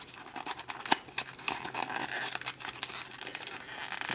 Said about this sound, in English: there is some really crinkly paperwork in here